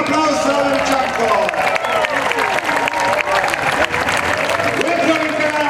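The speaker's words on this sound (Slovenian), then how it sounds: "Laura Rose Delfenbach, en aplavz za Američanko." A crowd at a bridge-jumping event breaks into sustained applause, clapping loudly and continuously with scattered cheers, while a voice talks over the noise.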